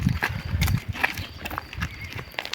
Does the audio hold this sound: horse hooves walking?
yes